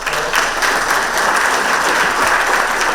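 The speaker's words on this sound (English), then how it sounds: "a round of applause and a big thank you to my parents" Steady, dense audience applause at the launch of the book Better Never Stops by Shyam Srinivasan, a continuous wash of many hands clapping without pause.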